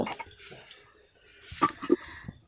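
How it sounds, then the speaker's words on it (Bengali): A spatula stirs vegetables in a pan: a few light metallic scrapes and clinks, quiet and scattered, with brief taps bunched near the end. "খুন্তিতে একটু নেড়ে চেড়ে সবজিটা একটু মিশিয়ে দিলাম"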